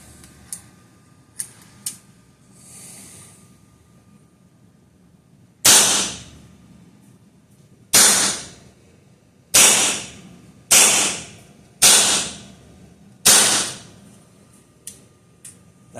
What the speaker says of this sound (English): That's 4 mags worth of shots.